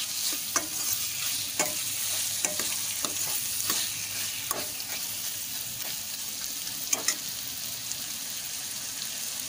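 Prawns being sautéed in a pan give a steady, close sizzle broken by scattered clicks and scrapes from stirring, with no voices.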